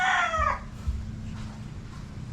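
A rooster crows loudly and close by for about half a second at a Filipino gamefowl yard with a Boston Gold broodcock, then a low rumble and a few faint thumps follow with no voices.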